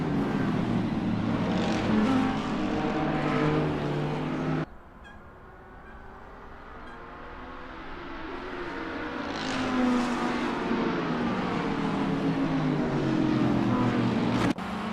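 Porsche 911 GT3R race car in the Assetto Corsa racing game during a GT3 series round at Watkins Glen, its engine droning loud and steady, dropping briefly mid-clip as revs fall and then climbing again.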